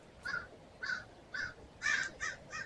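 Six harsh caws from a crow ring out in spaced bursts, the later ones coming quicker and louder, with no talking.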